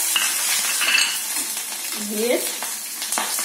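Green chilies and nigella seeds sizzle in hot oil beside fried pabda fish for a Bengali curry, a close, steady crackle with light utensil clinks and a single brief spoken word.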